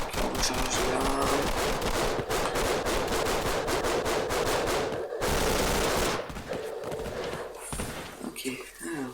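Rapid bursts of gunfire from a Roblox shooting video game ring out in dense, repeated volleys, with a brief pause midway and more shots afterward, while a player talks over the fighting.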